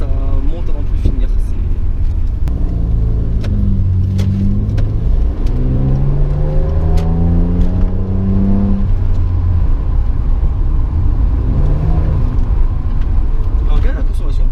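A naturally aspirated 2.5L V6 in a Ford Cougar revs up loudly in long rising sweeps from inside the car, climbing steadily in pitch then falling back, with a deep rumble underneath throughout.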